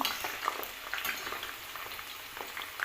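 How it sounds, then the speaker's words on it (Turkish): Hot oil sizzles and crackles steadily in a small Turkish coffee pot, with scattered sharp pops over a constant hiss, close and moderately loud, no talking. "bir yandan da yağımı kavuruyorum. Cezvede kavuruyorum çünkü şu anda Tavalar müsait değil"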